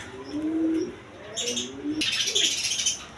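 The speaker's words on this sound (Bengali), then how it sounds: "এখানে এক পেয়ার ইউ শেপের লাহোরি কবুতর আছে" Big U-shape Lahori pigeons, a male and female pair, coo in low rolling calls, with higher chirps and brief wing-flutter bursts in between, close by and without talk.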